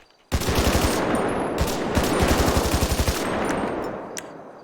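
An advanced rifle fires in the GTA FiveM video game as a loud, continuous burst of rapid automatic gunfire. It pauses very briefly, resumes with a second burst, then trails off in echoing decay.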